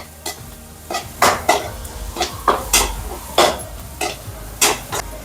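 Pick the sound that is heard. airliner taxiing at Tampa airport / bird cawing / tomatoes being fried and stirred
tomatoes being fried and stirred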